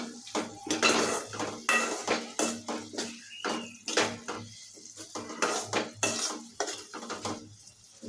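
Metal utensils scrape and clink against a pot in a steady, repeated rhythm, close and fairly loud, with no talking.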